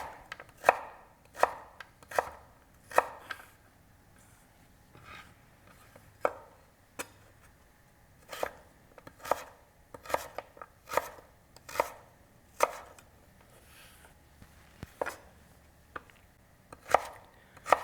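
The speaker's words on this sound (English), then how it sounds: "I'm slicing them sort of into the julienne before I turn them into dices" A knife slices potatoes on a cutting board into julienne strips, making crisp, close, irregularly spaced chopping knocks in small clusters against a quiet background.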